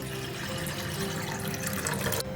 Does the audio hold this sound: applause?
no